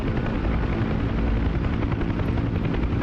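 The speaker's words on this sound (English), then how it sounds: "You see how the helicopter is spinning to the right?" Constant whirring helicopter rotor and engine noise from a UH-1 Huey in the DCS flight simulator game, loud and unbroken.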